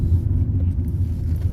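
A car drives steadily toward a rear car park, heard as a constant loud, low engine and road rumble with no distinct events and no talking.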